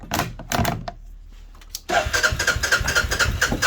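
A 2006 Hoss CFMoto side-by-side 4x4 engine cranks with a few clicks and thumps, goes quiet, then catches and settles into a loud, close, rhythmic idle with a pulsing chug.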